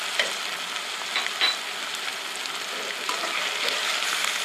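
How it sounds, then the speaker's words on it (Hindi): Ginger garlic paste frying in a pan while dal with bitter gourd is prepared, giving a steady close sizzle with occasional light stirring scrapes and small pops, and no voices. "यहाँ मैं इसमें अदरक लहसुन का पेस्ट डाल दूंगी। थोड़ी देर में इसे भी इस तरह से फ्राई होने दूंगी।"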